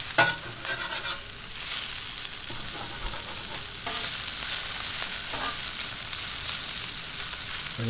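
Pepper steak sizzling and being stirred on a Blackstone griddle, a constant bright close frying hiss with scraping spatula strokes breaking through at intervals.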